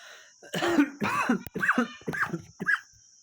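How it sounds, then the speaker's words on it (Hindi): A person coughs repeatedly, five or six harsh, close coughs in quick succession with brief gaps between them. "खांसी वगैरह है तो थोड़ा इसे इग्नोर करिएगा"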